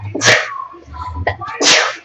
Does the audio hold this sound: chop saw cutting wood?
no